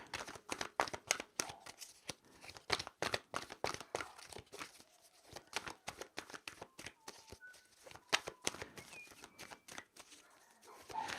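A deck of tarot cards being shuffled and drawn gives rapid, crisp papery flicks and riffles, close up, in an uneven run of dozens of snaps with no one talking.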